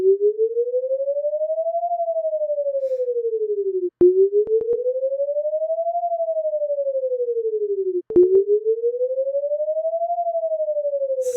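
A siren-like weather alert tone rises and falls slowly in three repeating sweeps, each about four seconds long, steady and loud, with brief clicks between cycles.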